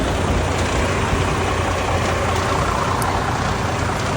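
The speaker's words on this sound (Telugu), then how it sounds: "This is our truck." A large shipping truck in the USA, loaded for transport, idles with a steady, loud, even engine rumble and no talking.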